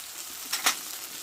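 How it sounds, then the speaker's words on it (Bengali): Ginger-onion paste and tomato sauté with spices in a pan, a steady low sizzle broken by two quick stirring scrapes, close by and without voices. "আদা পেঁয়াজ বাটা টমেটোটা ভালো করে কষে নিয়েছি"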